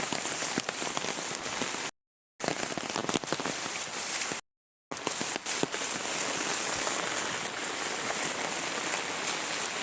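Heavy rain pours steadily at a work site where painters carry on under a tarp, a loud continuous hiss of drops drumming on surfaces, broken only by two brief silent gaps.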